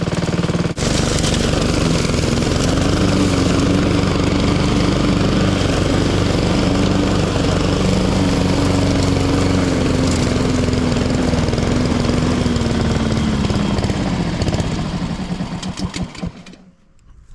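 A faulty lawn mower engine runs loudly and continuously at close range, droning steadily before sputtering and dying out near the end as it runs out of fuel.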